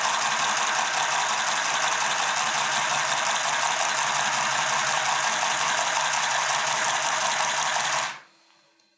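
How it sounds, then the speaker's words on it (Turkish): A Silvercrest handheld sewing machine stitches fabric with a loud, steady, buzzing mechanical whir that runs without a break for about eight seconds, then cuts off abruptly into near silence. "Emniyetini açıyorum bu şekilde ve dikmeye başlıyorum gördüğünüz gibi"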